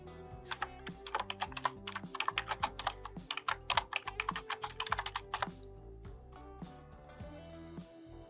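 Typing on a computer keyboard: rapid, close, irregular key clicks in dense bursts for several seconds, then thinning to a few scattered taps, with no talk.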